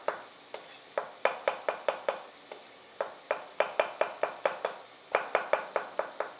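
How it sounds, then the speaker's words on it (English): Cremini mushrooms being sliced with a knife on a cutting board, a crisp series of close, evenly spaced chops coming in short runs with brief pauses between them, with no voices. "The cremones, we're going to slice them."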